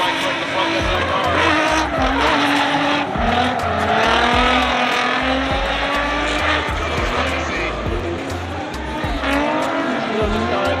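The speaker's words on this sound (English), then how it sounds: "Man going on the left front brake to try and break the front end of the car." Drift race car at Orlando Speedworld braking hard and sliding, engine revving loud and near with long tire squeal and skidding throughout, commentator talking over it.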